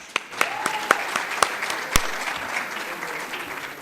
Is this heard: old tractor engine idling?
no